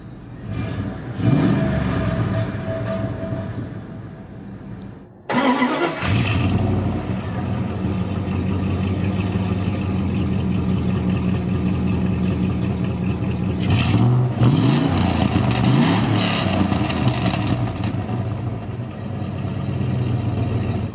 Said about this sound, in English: And let's fire it up. It's still surprisingly quiet for being a vehicle like this.